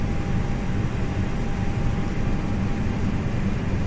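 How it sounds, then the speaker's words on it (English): An Airbus auxiliary power unit spinning up in Microsoft Flight Simulator 2020 makes a steady, dense turbine roar with a faint constant whine, unbroken and even throughout. "You can hear the sounds. It's located there, APU, auxiliary power unit of the plane."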